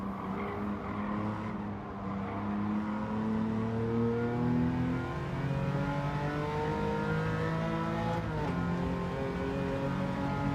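Engine note of a Porsche race car in Gran Turismo 7 rising and falling through gear changes, with sliding tire noise, steady and loud throughout with no talk.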